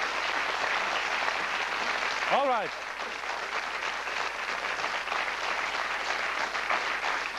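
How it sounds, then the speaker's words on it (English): A television studio audience gives a short round of moderate applause, with a brief rising whoop near the start and someone speaking briefly over the clapping. "give Jacqueline a little round of applause"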